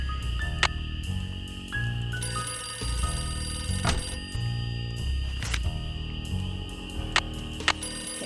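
A telephone rings repeatedly in the Nancy Drew video game Ghost Dogs of Moon Lake, its bright electronic trills recurring steadily over a layered game music and ambience bed.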